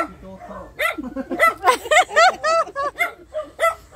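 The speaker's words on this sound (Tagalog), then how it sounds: "Ang cute ng aso." A small dog barks and yips repeatedly, close by, in quick excited bursts with a whimpering edge, while people talk nearby.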